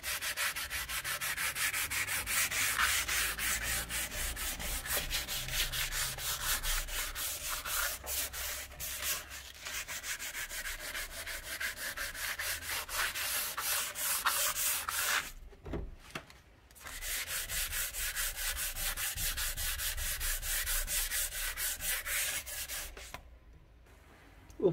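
Steady abrasive rubbing on a PVC window frame to clean off stains and yellowing, a continuous close scrubbing sound with a brief pause partway through and no talking.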